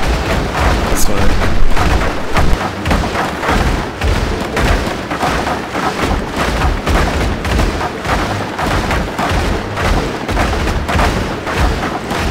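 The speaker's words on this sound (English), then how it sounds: "I like how they went on each side so all my guns can operate and shoot them." Airship guns fire repeatedly during a battle in Airships: Conquer The Skies, a loud, steady barrage of overlapping shots and thumps that keeps a rapid, uneven rhythm with no break.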